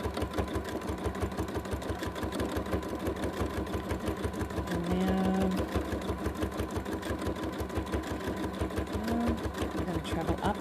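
Free-motion quilting machine stitching through fabric, a rapid, even needle chatter that runs continuously at moderate volume, with a brief louder whir partway through.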